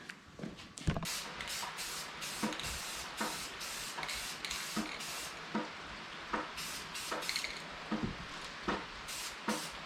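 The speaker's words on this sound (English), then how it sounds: "Let's go rattle can paint this thing." Rattle-can spray paint is applied to parts of a Power Wheels Gator build in repeated short hissing bursts, each a second or so long with brief gaps, close and fairly loud with no talking.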